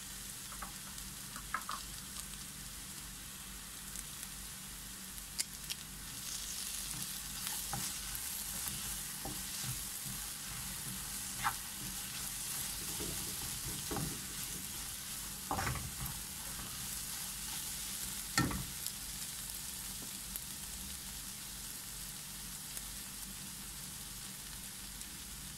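Sausage frying in a pan with curry leaves, a steady bright sizzle with scattered pops and stirring scrapes, close and continuous, no talking.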